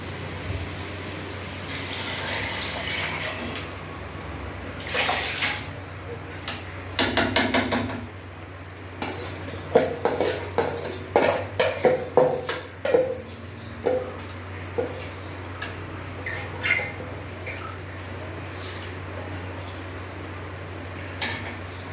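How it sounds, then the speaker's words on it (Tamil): Metal spoon scraping and clanking against a cooking pot of rice for tomato rice in irregular bursts, with a low steady hum underneath and no speech. "கிளறி விட்டுக்கலாம்."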